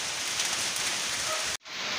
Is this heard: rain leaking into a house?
yes